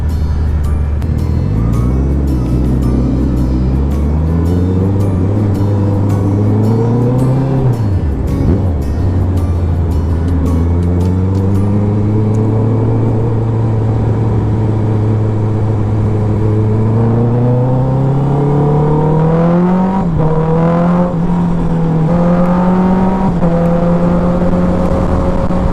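Motorcycle engine fitted with an Akrapovic muffler, velocity stack and ECU tuning, revving hard and close, with pitch climbing and dropping through repeated throttle blips and sustained high-rev pulls, loud and steady with no talk.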